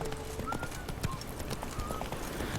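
A horse's hooves clip-clop steadily in The Witcher 3 video game, a quiet, even rhythm of hoof falls that runs through the whole moment.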